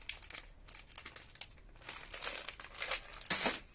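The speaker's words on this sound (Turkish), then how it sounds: "Şimdi ikinci paketi açıyoruz." A crinkly plastic package holding a Minions toy is opened by hand, giving irregular bursts of close crinkling and tearing that grow busier and louder toward the end.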